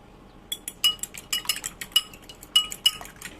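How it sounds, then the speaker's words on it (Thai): A utensil clinks and taps against a bowl in quick, uneven bursts, close by, as two eggs are beaten. No one speaks. "เอาไข่มาตีสองฟองนะคะ"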